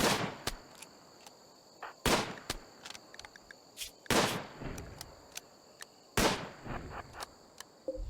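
Rapid gunfire from a shooting character in the video game RimWorld: a string of sharp, loud shots in uneven bursts, with short gaps between them and fainter pops in between.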